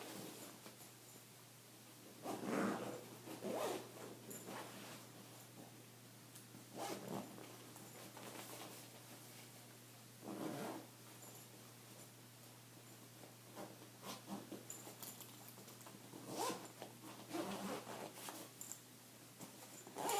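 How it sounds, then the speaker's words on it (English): A zipper on a Cabin Max backpack packed with compression cubes is pulled shut in several short, close, quiet rasping strokes, with pauses between them. "Get this zipped up."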